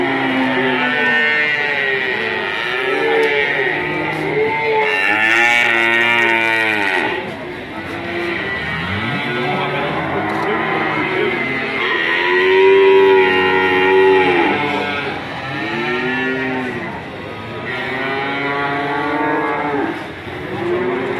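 Beef cattle weighing roughly 450 to 500 kg each moo repeatedly and loudly, long drawn-out calls overlapping one another from several animals nearby, continuing without pause.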